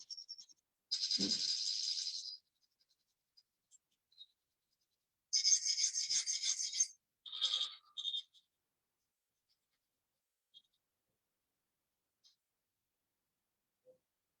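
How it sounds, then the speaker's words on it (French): Monks rubbing a metal instrument to let coloured sand trickle out for a mandala, giving bursts of dry raspy scraping separated by silence and a few faint ticks. "ils frottent leur instrument en métal et la poudre tombe"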